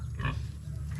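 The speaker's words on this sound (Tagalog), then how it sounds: "Yan yung barako na alaga ako, si Toki." A boar pig gives a single short, close grunt against a low rumbling background.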